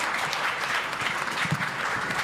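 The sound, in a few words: audience applause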